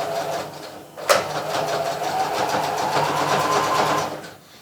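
A sewing machine stitches fabric for a nursing cover. A sharp click sets it going into a steady, close, rapid mechanical whirring that holds level and then fades at the end, with no one talking over it.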